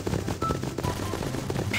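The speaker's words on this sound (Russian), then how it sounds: "Так, слышу, слышу, выстрелы где-то здесь идут." Rapid bursts of gunfire in the video game Garry's Mod, a dense run of loud repeated shots with a machine-gun rhythm, continuous throughout and with no voices over it.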